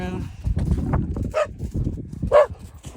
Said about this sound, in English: The dogs are running around.